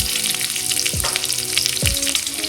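Crosswise-sliced onion hitting hot oil in a pan for a noodle breakfast, a strong close sizzle with a couple of sliding stir strokes and a faint ringing hum behind.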